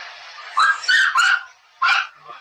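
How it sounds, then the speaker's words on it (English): Several dogs bark in short, sharp bursts, a cluster of three quick yips followed by a single louder bark a moment later, fairly close and clear with no talking. "Sounds like my dog ain't the only one."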